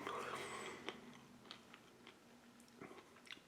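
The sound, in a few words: chewing crunchy chocolate Ranger bar from a US MRE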